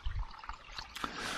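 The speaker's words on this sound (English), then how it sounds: "there seems to be more water getting through there now" Water trickles and splashes through the intake of a water wheel turbine built from a modified washing machine, a faint, short outdoor burble with a couple of brighter splashes.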